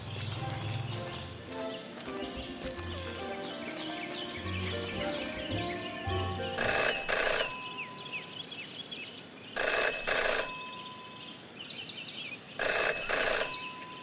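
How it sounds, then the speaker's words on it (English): An old-style telephone bell rings in the video game Jenny LeClue, three loud bursts of ringing spaced a few seconds apart over layered game music and ambience. "never to ignore a ringing phone"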